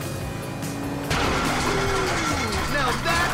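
A sputtering, rattling boat engine failing in the video game Grand Theft Auto V whines and knocks with mechanical clanks under overlapping voices, tones wavering as if struggling.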